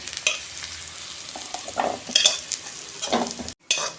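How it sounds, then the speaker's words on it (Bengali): Fried taro tipped out of a pan makes a close sizzle with scraping, clattering stirs, building in a few short bursts before a brief cutoff and a final crackle. "আমার কচুটা ভাজা হয়ে গেছে, আমি এবার ঢেলে ফেলছি"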